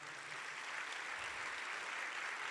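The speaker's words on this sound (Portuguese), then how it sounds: "Você pode aplaudir ao Senhor pela sua palavra?" A church congregation applauds together, a steady, even wash of clapping that holds at moderate level for the full stretch with no voices over it.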